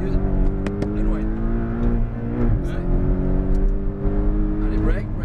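A Porsche Cayman GTS accelerates hard on a racetrack, its engine note climbing in pitch through a rev range and dipping briefly near the middle before rising again, loud and close from inside the cabin.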